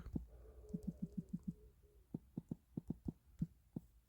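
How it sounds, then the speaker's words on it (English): Keys clatter on a computer keyboard during character creation in D&D Beyond, a quick burst of evenly spaced taps followed by a steadier string of single keystrokes, close and clear with no talk. "I am just typing terribly today"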